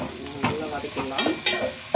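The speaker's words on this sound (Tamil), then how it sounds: "நல்லா வதக்கிடலாம்." Onions and green chillies sautéing in a hot pan, soft sizzle broken by several quick scraping stirs of a spatula, close and alone.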